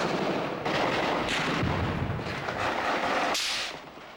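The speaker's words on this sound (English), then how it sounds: "The end of this horrific standoff begins with an explosion." A loud explosive blast ending an armed standoff with camouflaged, armed men, heard as a series of heavy booms and crackling bursts that fade out near the end.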